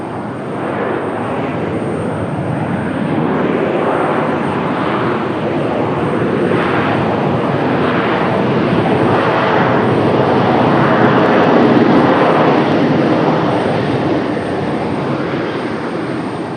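A Frontier Airlines jet at Raleigh-Durham International Airport, a loud, steady engine roar that swells gently and holds, filling the whole stretch with broad rumbling noise and no voices.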